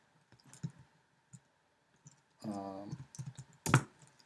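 Typing code on a computer keyboard, sparse scattered key clicks with a brief burst of rapid taps and one sharp louder strike, with a voice briefly heard between them.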